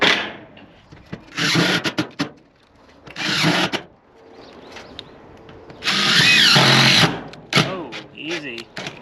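A DeWalt power drill whirs in several short bursts of a second or two while a metal roof is installed on a shop-house build, loud and close, with people talking between the bursts.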